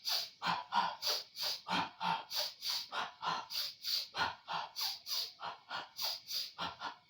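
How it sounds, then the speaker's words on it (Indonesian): In a breathing exercise, a person takes paired sniffing inhalations through the nose and paired puffs out through the mouth. The breaths come in a steady, rapid rhythm, heard close and clear with no talk. "tarik napas 2 kali dari hidung, keluar napas dari mulut 2 kali"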